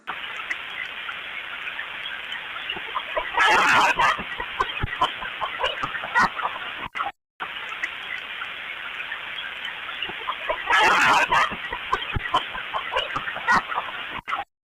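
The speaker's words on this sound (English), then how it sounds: "Tell me that the squawk in the beginning is not horrifying." Close chicken clucking plays twice in a row, each pass with a loud, raspy squawk partway through amid a steady run of short clucks.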